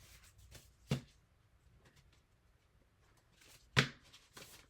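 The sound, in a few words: trimming a paper art journal piece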